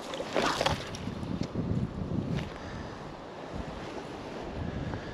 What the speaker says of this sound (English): Just wish this wind would bugger off.